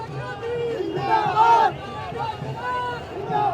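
An enthusiastic crowd at an election roadshow produces loud, continuous cheering and chanting, with rising shouts swelling near the middle and voices layered throughout.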